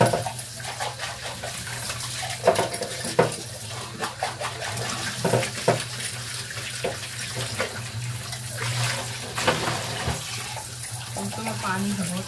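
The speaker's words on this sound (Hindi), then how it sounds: "अभी ये बर्तन धोने हैं" Dishes being washed under a running kitchen tap, with steady water flow and scattered clinks and clatters of utensils throughout, fairly close and moderately loud, with brief bits of voice in the background.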